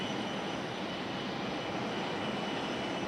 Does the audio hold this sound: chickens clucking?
no